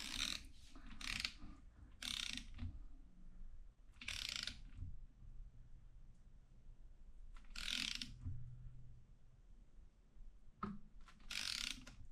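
A torque wrench set to 14 foot-pounds ratchets on the transmission band of a 1998 Ford Ranger with a 4R44E transmission, in several short bursts of quick clicking, close and clear, separated by pauses.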